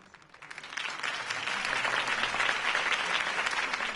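A crowd breaks into applause in Batman: The Telltale Series, swelling quickly and holding as a dense, sustained clapping wash.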